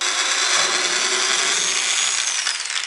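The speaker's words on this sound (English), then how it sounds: "We decided to use a bigger drill bit for the plexiglass, but the smaller drill bit for the wood" A continuous, harsh drilling whine into plexiglass sheet with a large drill bit, steady and loud for about three seconds with no talking.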